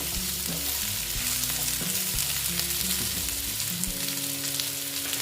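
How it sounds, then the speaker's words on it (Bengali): A fish head fries in a pan for a mixed vegetable dish, giving a steady close sizzle with stirring scrapes and clinks, while a musical tone hums underneath throughout. "মুড়োটা দিয়ে আবার একটু ভেজে নিচ্ছি"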